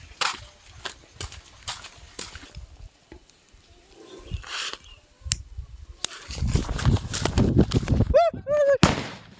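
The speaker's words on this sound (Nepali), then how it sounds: "अब चाहिँ राखेर पड्काउँछ नि राखेर पड्काइन्छ" Firecrackers are set on the ground and burst during Diwali (Tihar, Lakshmi puja) celebrations: several sharp, scattered bangs, a couple loud and close, mixed with people talking and other festive noise.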